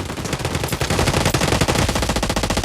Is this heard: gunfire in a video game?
yes